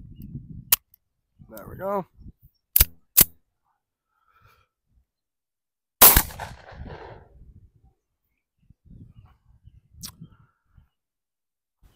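A Tisas 1911 Carry 9mm pistol firing Winchester 115 grain white box rounds at a range, with a few sharp, isolated loud shots spaced apart, plus brief talk and quiet handling noises between them.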